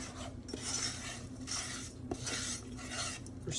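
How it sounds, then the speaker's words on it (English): Breadcrumbs mixed with black pepper, salt and Parmesan are stirred in a bowl, giving a steady scraping, rasping swish in repeated strokes with faint clinks of the utensil, quiet and close, no talking. "we're stirring the breadcrumbs"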